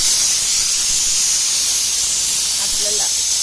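A pressure cooker of mutton on a wood-fired stove vents steam in a loud, continuous, broad hiss that stays steady throughout.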